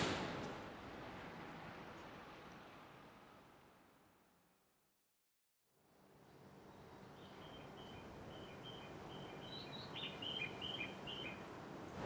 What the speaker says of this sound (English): there's the sounds of birds that they often have in the underground stations.